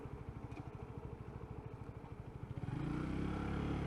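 A motorcycle with a low-RPM running fault chugs at low revs in a steady pulsing beat, then the engine note rises and smooths into a louder continuous drone.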